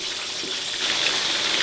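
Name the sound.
boiling water being poured over raw chicken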